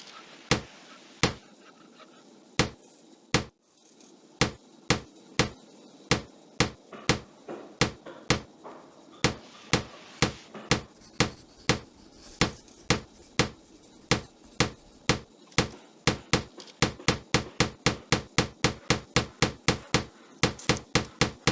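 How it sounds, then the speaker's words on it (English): Nails are hammered into a wooden frame in the game Tonka Workshop: sharp, loud wooden knocks, spaced evenly at first and then speeding into a rapid run of blows near the end. "Assemble the frame and nail the floor and roof pieces on with the hammer."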